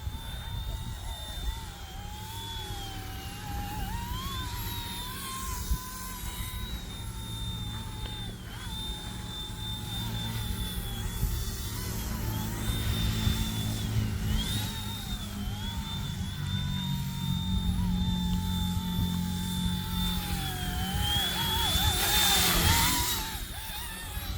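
An RC ERA 186C Pro RC helicopter in flight under steady throttle, outdoors in wind, giving a continuous whining motor and rotor drone with shifting pitch that stays fairly even and grows a little louder near the end.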